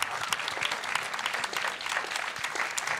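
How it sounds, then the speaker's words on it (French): An audience applauding at a talk on substance use at work and in sport, dense continuous clapping for a few seconds with no speech over it. "je pense qu'on peut peut-être les applaudir parce que c'est du boulot"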